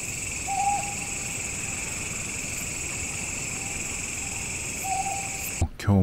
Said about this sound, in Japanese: フクロウさんが鳴いてます。